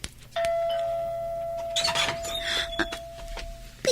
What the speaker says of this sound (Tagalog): Pindutak man dati doorbell.